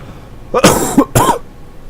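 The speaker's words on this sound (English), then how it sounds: "Coughing right in the mic." Two harsh coughs close to the microphone, the second following shortly after the first, with quiet background before and after.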